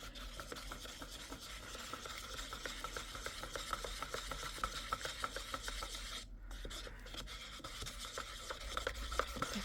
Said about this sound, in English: Give it a really good mix.